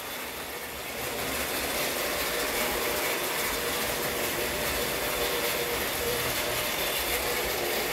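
A McCoy model train engine runs at speed pulling a string of cars, a loud continuous mechanical whir and rattle of motor and wheels that builds in the first second, then holds steady.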